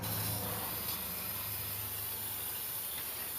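A steady, close hiss of finish sprayed over a wooden Abraham Lincoln portrait runs unbroken and fairly loud from start to end.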